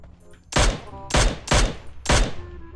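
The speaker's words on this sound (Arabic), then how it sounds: "ثلاث طلقات شلون ما مات؟" Three loud, close gunshots in PUBG, fired singly at a steady interval of roughly half a second, each a sharp crack with a short decaying tail over quiet game ambience.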